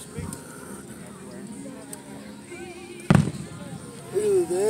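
Fireworks at Oswego HarborFest burst in the distance, one sharp loud bang standing out among fainter pops. People talk throughout and music plays along with the show.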